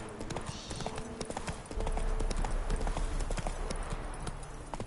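Horse hooves clip-clop at a steady trot in The Witcher 3 video game, a quick, continuous run of close hoofbeats over a low background rumble, with a brief voice cue.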